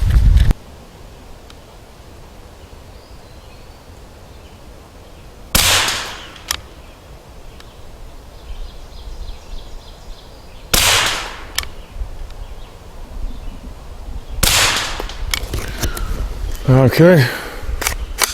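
A 1972 Glenfield Model 60 rifle fires Remington Subsonic .22 rounds outdoors, three sharp, fairly loud cracks spaced several seconds apart against a quiet background, with a brief spoken word near the end.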